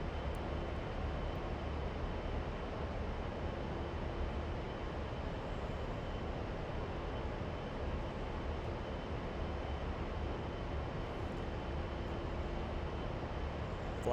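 A combat jet in a flight video game heads straight for a runway in near-emergency landing mode after systems fail, its engine holding a steady, even roar throughout with no voices.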